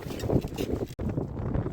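Strong wind buffets a small fishing boat along an island shore in the Sundarbans during a Kalbaishakhi storm, a loud continuous roar and rumble with a brief dropout midway.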